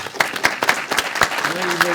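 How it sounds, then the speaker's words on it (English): Sparse, distinct hand claps from a small studio audience during a reunion show, individual sharp claps at uneven intervals, with a voice faintly present underneath toward the end. "clap it up for him"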